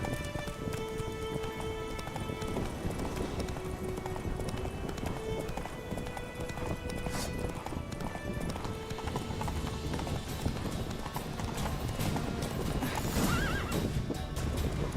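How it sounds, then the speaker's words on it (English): Roach, the horse in The Witcher 3, gallops with steady clip-clopping hooves and whinnies over a continuous game soundtrack, sustained and fairly loud throughout. "Whoa there, Roach."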